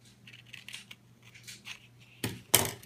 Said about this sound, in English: So I'm going to actually just cut out a couple of these spiders.